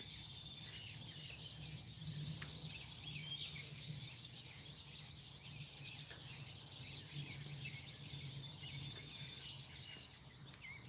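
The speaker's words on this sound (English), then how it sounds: "I want to listen to the birds." Birds chirp and sing continuously in the distance over a steady outdoor hum, faint and layered, with no talking.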